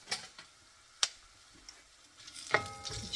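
Whole spices and asafoetida sizzle in hot oil for a Maharashtrian kadhi tempering, a soft crackling hiss punctuated by a few sharp clinks of a spoon against the pan.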